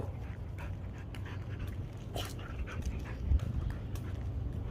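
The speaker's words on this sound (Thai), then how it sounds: "วันนี้พา สุนัข นายจ้างครับมาเดินเล่นนะครับ" A dog pants steadily while out on a morning walk, the rapid breathy rhythm running close and continuous with a faint thump or scuff of footsteps midway.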